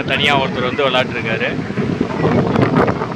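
Strong wind gusting outdoors at a shooting-sport venue, a loud roaring rush over the microphone while someone talks over it.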